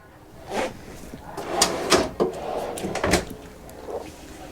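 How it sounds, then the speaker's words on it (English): Solid RV cabinet drawers in a 2024 Luxe 44FL front-living fifth-wheel being opened and shut, several sliding thuds and clacks at uneven intervals, close and fairly loud against a quiet room with no talk. "notice that these drawers, they're solid too"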